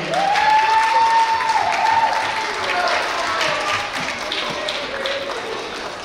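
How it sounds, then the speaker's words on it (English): A school audience gives steady applause for first graders at a Student of the Month ceremony, a continuous wash of clapping that fades slightly toward the end, with a high whistle-like tone near the start. "let's give a big round of applause to our first graders"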